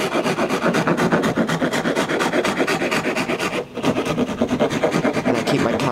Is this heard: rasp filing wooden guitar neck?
yes